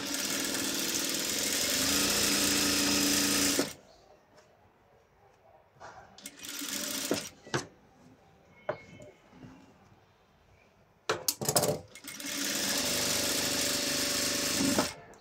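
A sewing machine runs in loud, steady bursts of whirring stitches through fabric, stopping and starting with pauses full of small clicks and handling noises, close by.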